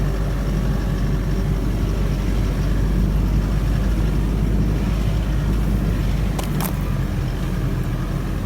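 A 4WD spins a back tyre climbing a sand dune, the engine a steady loud rumble with constant churning noise throughout and a brief sharper burst near the end.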